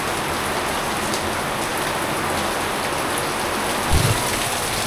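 Heavy rain pours down steadily at a cemetery, a dense, constant hiss of drops hitting surfaces, with a single dull thump near the end.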